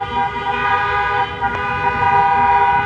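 Several car horns honk continuously on a crowded market street in Albi during summer, with a busy wedding crowd around, the tones overlapping loudly and steadily throughout.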